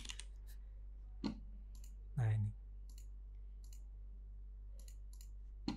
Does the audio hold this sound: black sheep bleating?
no